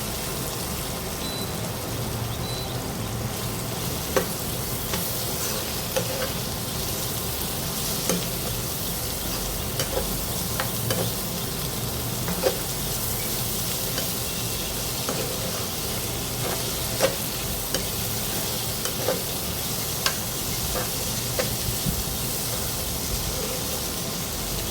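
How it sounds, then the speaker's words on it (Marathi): Boiled spine gourd (kantola) being sautéed in oil, a steady close sizzle lasting throughout, punctuated by occasional spatula scrapes and taps against the pan, with no voices. "तेलावर ते परतून घेऊया छान"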